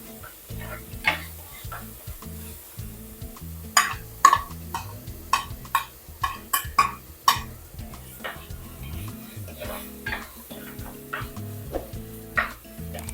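Grated shallots sautéing and being stirred in a pan, with a steady soft sizzle under repeated sharp scrapes and clinks of a utensil against the pan, fairly close and irregular in rhythm over low background noise.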